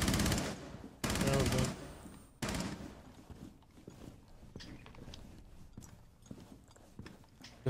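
Automatic gunfire in Rainbow Six Siege rips out in three loud, rapid bursts close together. Quieter footsteps and scattered clicks follow.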